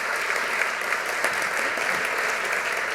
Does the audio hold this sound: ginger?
no